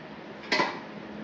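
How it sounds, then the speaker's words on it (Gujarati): A spoon clinks and scrapes once against a pot while lapsi, a sweet broken-wheat dish with jaggery, is stirred, a single brief metallic knock standing out over a quiet room. "આવી રીતે હલાવી નાખવાની એટલે ગોળ ને બધું મિક્સ થઈ જાય"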